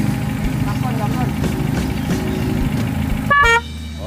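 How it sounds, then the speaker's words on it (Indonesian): Chevrolet Spin 1.2 horn gives one short loud honk near the end, following a steady idling engine and background murmur. "Itu klaksonnya, bunyinya oke juga sih."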